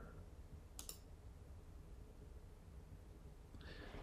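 A computer mouse clicks twice, sharp and close, first near the start and again near the end, with quiet room hiss between and no talking.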